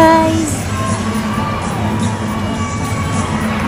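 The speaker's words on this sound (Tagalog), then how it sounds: "Nakakadala yung cheering ng crowd" Crowd cheering and shouting fills a basketball arena during a Ginebra vs San Miguel semi-finals game, a loud, steady roar of many voices with whoops rising over it, close and continuous throughout.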